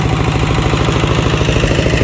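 A belt-driven grass chopper powered by a Kubota engine runs steadily and loudly with a close, even mechanical drone and clatter, with no talking over it.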